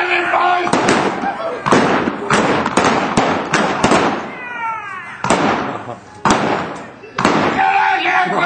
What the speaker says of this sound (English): quit shooting that gun!